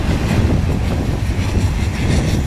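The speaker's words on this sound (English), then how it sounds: "I could see the end of the train down there around the corner." A Southern Pacific freight train rumbles past nearby with a steady, heavy low roar and broadband rail noise, no voices.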